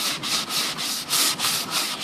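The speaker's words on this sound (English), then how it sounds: "you're literally just going to sand on the edges of where you want it to distress" Steady, rhythmic scraping of a sanding block rubbed back and forth on painted wooden cabinet edges, close up, with repeated strokes and no talking.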